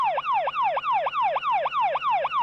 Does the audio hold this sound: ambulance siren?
yes